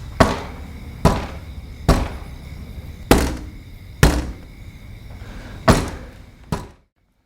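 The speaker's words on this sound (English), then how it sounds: "Then something knocks against the window." A series of seven hollow knocks thud against a window in a quiet room, spaced roughly a second apart, each a sharp close strike with a short decay, and no voices.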